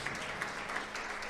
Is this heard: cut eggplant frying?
no